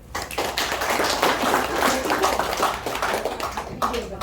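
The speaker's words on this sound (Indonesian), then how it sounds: "Boleh tepuk tangan." Audience clapping at a health product presentation on PMD and PDP therapy devices, a brisk burst of many hands clapping at fairly even strength for several seconds before fading briefly near the end.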